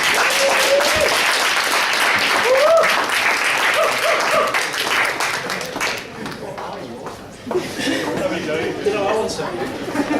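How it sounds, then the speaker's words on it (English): An audience at a student union question-time event claps in a steady round of applause that thins toward the end, with voices heard over it. "A round of applause then,"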